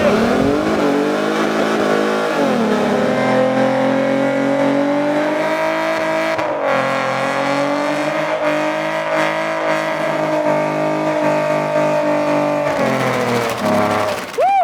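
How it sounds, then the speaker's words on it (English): A V6 Ford Mustang does a burnout at a Mustang car show burnout competition, its engine screaming at sustained high revs for the whole stretch with a rising pitch, loud and close, while tire squeal and crowd noise mix in. "Starting the Mickey Thompson Burnout Competition, Alex"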